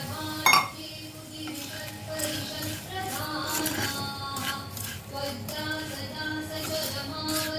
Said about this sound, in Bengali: জাস্ট একটু নাড়াচাড়া করে জল দিয়ে দেব।